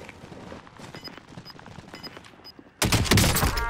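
Warzone gunfire: a few quiet, scattered pops are followed by a sudden loud burst of rapid, close automatic fire at the end.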